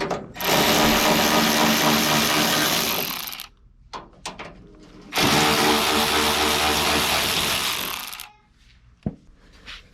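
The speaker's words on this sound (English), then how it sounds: "Over here, the latches are held on by 1/2-inch bolts, okay? So we're gonna undo both of those on each side." Power tool undoing half-inch bolts on the tailgate latches of a first-generation Cummins pickup, two loud sustained rattling ratchet bursts of about three seconds each, separated by short clanks and handling noises.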